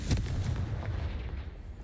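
Confringo spell blast in a Harry Potter wizarding video game, a single deep booming explosion up close that rolls out into a low rumbling decay.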